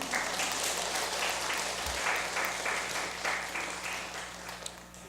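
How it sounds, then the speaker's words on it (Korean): Congregation clapping during a Sunday afternoon church service, a steady broad wash of applause filling the room at moderate level, easing slightly toward the end. "예, 박수 한번 치십시오"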